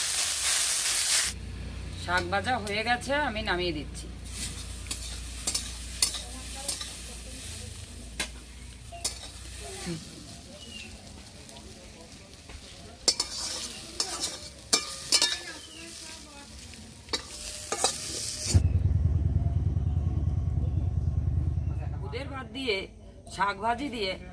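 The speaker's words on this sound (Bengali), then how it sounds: "ভালো করে নেড়ে চেড়ে শাকটা ভেঙে গেছে আমার শাক ভাজা প্রায় হয়ে এসেছে" Leafy saag greens being stir-fried in a pan, a steady sizzle with scraping stirs, talk running over much of it and a louder hissing burst near the end.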